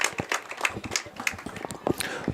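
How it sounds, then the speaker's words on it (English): A crowd at a North Tama high school football game applauds, the scattered claps mixing with a voice talking over the public-address system. "Please thank these people with a round of applause for the volunteer work they do"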